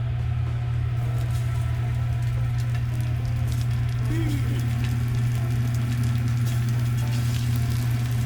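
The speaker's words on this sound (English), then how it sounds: "And now that we got our oil hot, we're going to go ahead and add our chicken up in here" A steady, dense sizzle of chicken frying in hot oil in a pan, continuous and fairly loud, with a low electrical hum beneath it.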